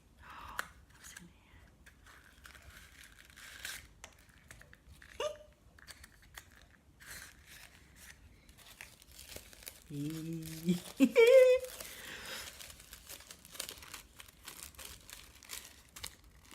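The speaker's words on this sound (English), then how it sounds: "Shall I pull the cracker?" A Christmas cracker is pulled and opened indoors, with quiet rustling and crinkling of paper followed by a brief sharp snap and crackle near the end. A person talks softly around it.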